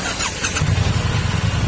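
A 2019 Triumph T100 Black motorcycle with about 17,000 km runs close by, a steady low engine rumble that comes in strongly after a brief quieter start and holds at a fairly loud level.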